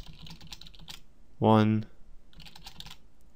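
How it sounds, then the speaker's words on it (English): Rapid, light clicking of typing on a computer keyboard runs quietly before and after a single short spoken word, with close, steady keystrokes. "So I'm going to start typing."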